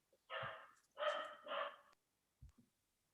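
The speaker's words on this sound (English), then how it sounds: "My dog is barking." A house dog barks three times in quick succession, fairly close and loud, followed by a couple of soft low thumps.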